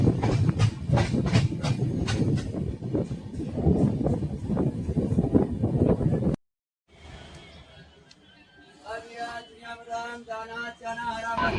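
Intercity Express train rolling on a single-line route, a steady loud rumble with rhythmic clacking and wind noise, then a sudden drop to quieter running with a faint whine.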